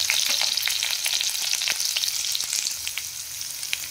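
Chopped garlic and green chili fry in hot oil in a kadai, a dense continuous crackling sizzle with scattered pops, close and steady with no talking.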